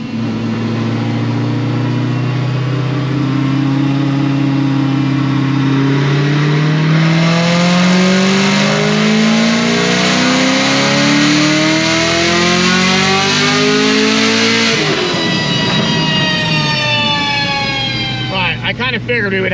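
A Procharged Chevrolet Camaro ZL1 with a supercharger blower fires up and revs hard, its engine pitch climbing steadily to a loud, whining peak before dropping sharply and then settling into a rough idle.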